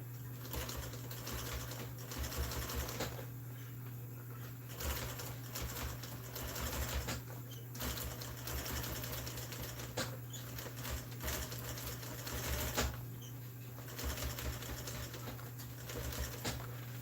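A sewing machine stitches motor home seat upholstery in a steady, faint whir with a low electrical hum running underneath throughout.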